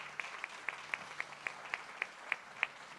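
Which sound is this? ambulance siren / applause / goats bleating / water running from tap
applause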